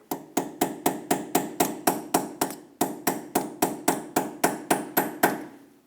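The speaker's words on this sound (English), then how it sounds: "To lock this in, you want to stake it back down." A hammer stakes a lower ball joint on a 2008-2012 Honda Accord: about seventeen sharp metallic blows in a steady rhythm, with one short pause midway, close and loud.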